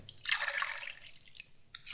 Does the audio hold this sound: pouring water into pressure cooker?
yes